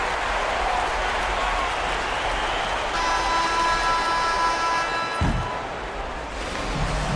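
Home crowd noise in a Euroleague basketball video game, a steady broadband roar of cheering and applause that holds throughout, with a brief thump near the end.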